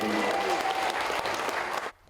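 Crowd at a political assembly meeting applauding the Assembly president's speech, a loud, dense burst of clapping that holds steady and then drops away abruptly at the end.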